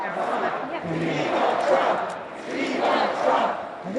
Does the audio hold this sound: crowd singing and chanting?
yes